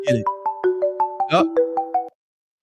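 On an outgoing phone call, a melodic ringtone plays a quick run of repeated electronic notes for about two seconds, then cuts off abruptly, leaving silence.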